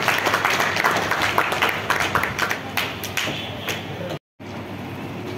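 Audience applause fills a function hall during a political rally, dense and steady clapping with scattered sharper claps, continuing for several seconds before a brief dropout, then resuming.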